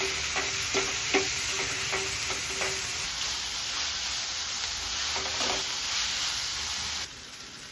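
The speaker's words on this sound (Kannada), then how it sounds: "ಆಯಿಲಲ್ಲಿ ಚೆನ್ನಾಗಿ ಫ್ರೈ ಆಗಬೇಕು." Onion and tomato fry in oil for a okra palya, a steady broadband sizzle with soft stirring scrapes that drops a little quieter near the end, no voices.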